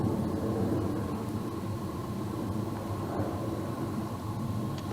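An airplane passes high over a quiet forest, a distant, steady low drone and rumble holding at an even level with no other clear sounds.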